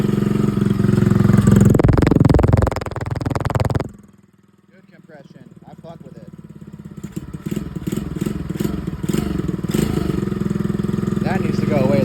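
Chinese dirtbike engine idling cold while warming up after a rebuild, a steady loud mechanical drone that cuts out briefly then settles into an even idle with clattering, people talking over it.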